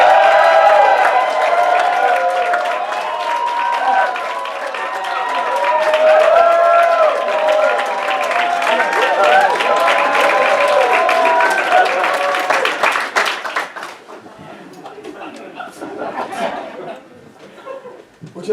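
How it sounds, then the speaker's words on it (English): A large audience applauds and cheers for an encore, loud sustained clapping with whoops and laughter for about thirteen seconds, then thinning to scattered claps and chatter. "the audience is cheering and screaming so wildly and so incessantly that they literally will not let me off the stage"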